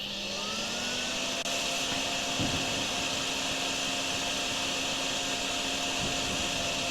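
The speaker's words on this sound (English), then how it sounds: "Hoovering up water is a bit weird, is it not?" A vacuum hoovering up floodwater in the drainage game Drainsim, a steady, loud, continuous whine with a low droning hum underneath, running unbroken throughout with no talk.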